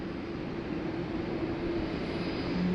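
An Air India airliner pushing back from a gate at Sydney Airport, a steady, loud, broadband engine and ground-equipment roar with a faint sustained tonal hum, distant and unchanging.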